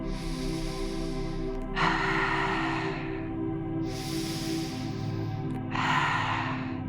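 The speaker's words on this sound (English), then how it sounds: "I'm going to invite you to breathe out deeply through the mouth" Deep breathing during a somatic relaxation practice: two long, loud, airy exhales through the mouth alternate with breaths in, heard close over a steady low background tone.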